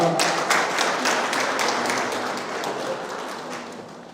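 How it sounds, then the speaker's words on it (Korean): Audience applause at a Korea–Malaysia contemporary art exchange exhibition ceremony, a dense burst of many hands clapping that starts strong and slowly thins and fades over several seconds. "네, 큰 박수 부탁드립니다."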